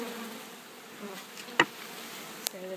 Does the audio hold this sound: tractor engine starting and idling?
no